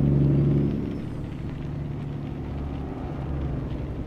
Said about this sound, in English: So today the truck's running a Cat C15.